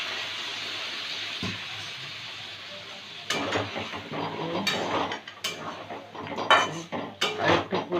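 Potatoes with peas being stirred in a cooking pot, with a steady steam hiss at first, then repeated clattering scrapes and knocks of a utensil against the metal pot.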